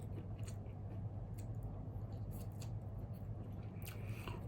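Chewing and biting on spicy boneless chicken feet salad with squid, close crunchy and squishy mouth sounds repeating steadily and loudly with no talking.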